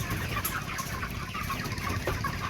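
A flock of broiler chickens on a farm clucks and chatters continuously and close by, a busy overlapping mix of calls with no pauses.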